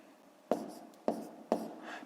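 Pen strokes on paper while working out a school multiplication problem by hand: three sharp scratching bursts, each fading quickly, spaced about half a second apart and recorded close up.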